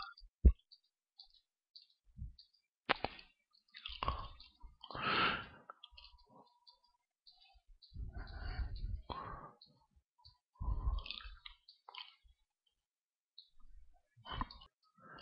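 A computer mouse is clicked quickly in a payoff game, giving sharp, faint, scattered clicks spread across the stretch while someone talks and breathes quietly between them.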